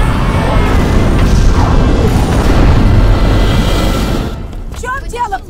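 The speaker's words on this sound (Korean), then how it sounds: "그 사이 공항에서는 화산 폭발 조짐이 보이기 시작하고" A deep volcanic eruption boom in a disaster film set at an airport, a heavy sustained rumble that dominates for about four seconds before cutting off, followed by brief distant voices.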